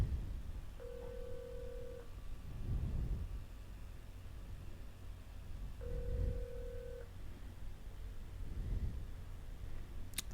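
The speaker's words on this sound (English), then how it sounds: "So just dialing 102. There we go, that's ringing." A phone ringing on extension 102 of a hosted PBX system, heard as two steady electronic ring tones about five seconds apart over a low hiss, with a brief click at the very end.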